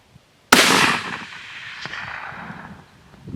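A single loud rifle shot from a Savage 116 in 7mm Magnum, fired in the field, with a sharp crack followed by a long rolling echo that slowly fades.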